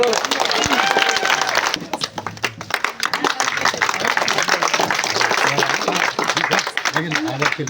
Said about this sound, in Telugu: చప్పట్లు కొట్టండి అమ్మ గట్టిగా